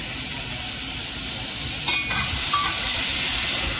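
Butter sizzling as it melts in a pan for gravy, a steady broad hiss with a brief scrape near the middle, close and fairly loud throughout.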